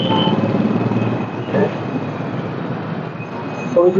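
A metro train rumbles past near a station in Kolkata with a steady low roar and faint metallic whine, loud throughout, with a brief rise near the end.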